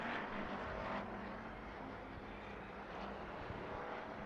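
Hobby stock race cars roaring side by side down the backstretch at Off Road Speedway during a heat race, a steady, dense engine drone spread wide at moderate distance with no voices.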